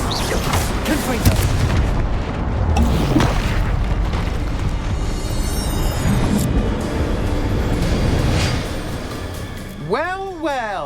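A Confringo fire spell explodes in the Hogwarts Legacy video game: a loud, booming blast amid dense, continuous battle noise and game voices, ending with a rising and falling whooshing tone.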